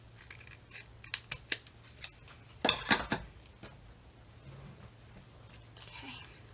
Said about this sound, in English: Let me just cut this a bit straighter.